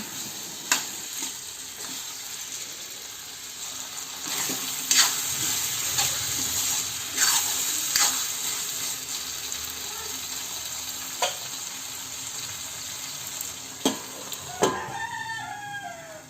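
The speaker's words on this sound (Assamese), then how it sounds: "ইয়াৰ লগতে সিজাই থোৱা কাবেলি বুটকেইটা একেলগে মই ভাজি ল'ম।" Boiled chickpeas fry in a pan with a steady, moderate sizzle, punctuated by occasional sharp clinks and scrapes of stirring, with no talking.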